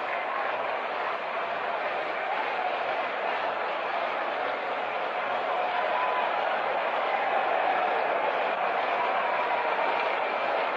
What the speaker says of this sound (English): The applause you hear below us greets the departure of the former president,